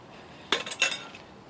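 Stainless steel Pathfinder cup lid clinking as it is handled, a quick cluster of bright metallic clinks and rattles lasting under a second, close and fairly loud against quiet surroundings.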